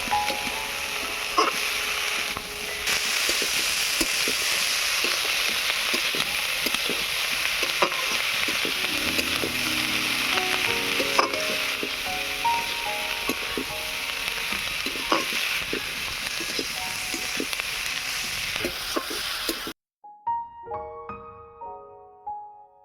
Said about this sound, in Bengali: সজনে ফুলটা দিয়ে আবারও আলুর সঙ্গে ভালো করে কষিয়ে নেব।